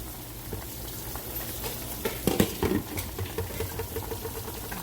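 Fish fries in a pan at a Friday night fish fry with a soft, steady crackle and a hiss, plus a brief clatter of handling in the middle, heard close with no voices.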